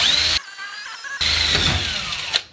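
A power drill boring into a computer case whines in two close, loud bursts, with a brief pause between them and a short clatter at the end.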